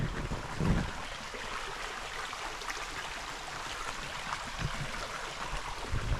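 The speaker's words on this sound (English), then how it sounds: "It's got the creek all the way up." Swollen creek running high after heavy rain, a steady rushing wash of water close by with no voices.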